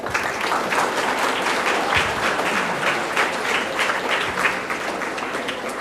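Schoolchildren at a school event break into loud, sustained applause, a dense wash of many hands clapping that fills the room evenly for several seconds without pause.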